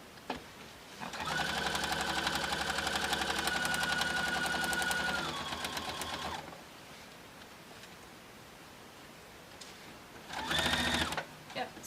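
A sewing machine stitches a quilt-as-you-go log cabin block through layers of batting, running in a steady close hum for about five seconds, then stopping before a short second burst, with a voice speaking quietly in between.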